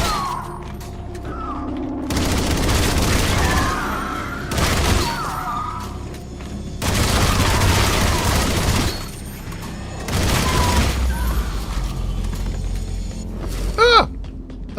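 Heavy explosions from a grenade launcher in a video game, several loud booming blasts in bursts with gunfire-like rumble between them, and a short grunt-like voice near the end.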